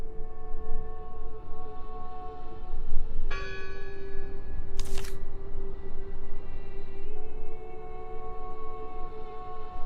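A church bell in the video game Draugen rings out with a bright, sustained metallic tone that decays slowly over an ambient drone, followed by a second brief strike.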